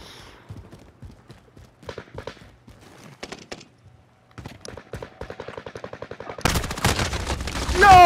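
Video game gunfire in bursts of rapid shots and footstep-like clatter, ending in a loud, dense blast of noise, with a player's voice briefly heard.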